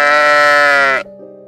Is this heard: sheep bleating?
yes